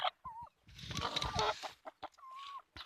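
Country hens on a forest farm at night give a run of clucks and clucking calls, fairly close, with short bursts separated by brief pauses and a busier cluster in the middle.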